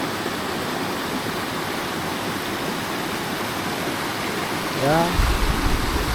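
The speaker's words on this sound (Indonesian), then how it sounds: "ditemani gemercik suara air sungai yang jernih" A clear river babbles and rushes steadily in a mountain valley, a constant close wash of water that fills the whole clip; a voice briefly speaks near the end.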